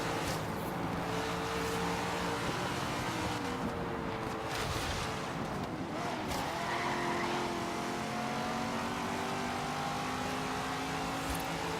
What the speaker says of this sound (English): this Corvette sounds so good as it's going through the power band